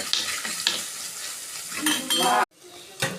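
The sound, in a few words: garlic and neem flowers frying in a pan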